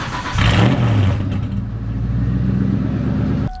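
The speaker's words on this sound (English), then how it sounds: "I'm gonna go ahead and give you guys a cold start because I missed my cold starts with the off-road H-pipe" A 1999–2004 New Edge Ford Mustang engine cold-starting through an off-road H-pipe exhaust with a popcorn tune: a loud, close rumble surges at the start, then settles into a steady, throaty idle.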